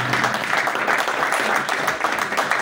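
Audience applause at an Urdu poetry gathering, a steady wash of clapping filling the hall at moderate loudness for the whole stretch, with no voices over it.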